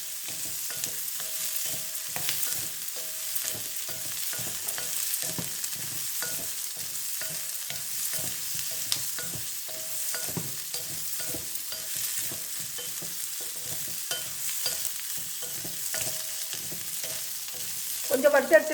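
Onions, shallots, garlic and cumin fry together in a pan for a fish curry, a soft steady sizzle broken by frequent scraping stirs of a spoon, close and fairly quiet throughout.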